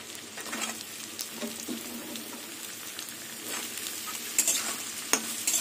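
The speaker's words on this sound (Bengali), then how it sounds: "এখন আলু আর পেঁয়াজ ভালো করে ভেজে নেব।" Potatoes and onions fry together in a pan, a dense continuous sizzle with occasional spatula scrapes and stirring knocks, close and steady without talk.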